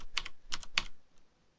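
Someone types a short command on a computer keyboard in a Unix terminal, a few quick clustered key clicks in bursts, close and clear with no talk over them.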